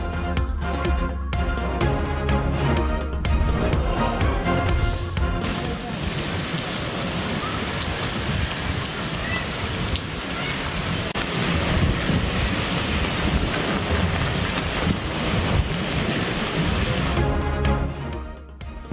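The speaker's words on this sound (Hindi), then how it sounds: "मरी में मूसलाधार बारिश के साथ झालाबारी।" Torrential rain with hail falling in Murree, a broad, steady roar of downpour and hail that continues loud and unbroken for most of the stretch before cutting off near the end.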